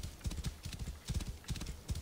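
A horse gallops in the video game Assassin's Creed Origins, its hooves beating in quick repeating groups of clopping thuds at a steady rhythm, close and clear with no speech over it.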